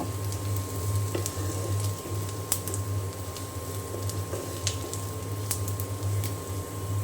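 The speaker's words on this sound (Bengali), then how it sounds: "আগে পেঁয়াজটা একটু ভেজে নিয়ে তারপরে মরিচটা ভেজে নেব" Onions and dried chilies fry steadily in hot oil, a continuous soft sizzle with scattered small pops and crackles, close and even throughout, no voices.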